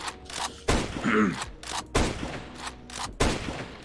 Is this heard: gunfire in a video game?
yes